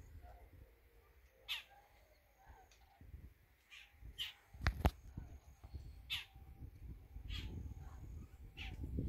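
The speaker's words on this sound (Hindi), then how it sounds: "देखें ये कुंज है, रशिया से आती है," Demoiselle cranes, migrants from Siberia, call while flying overhead in Pakistan, giving several short, distant, repeated calls spread across the scene above a low outdoor rumble.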